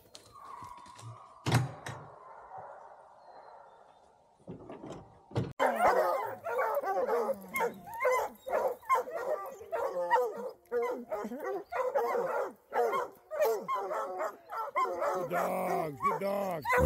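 Hunting hounds bay and bark excitedly at a bear treed in the woods, a few scattered yelps at first, then a dense, continuous chorus of close, loud barking and yipping.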